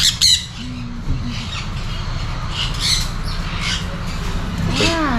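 Parrots squawk loudly at a parrot farm, harsh shrieking calls repeating close by over a busy background with chirps mixed in.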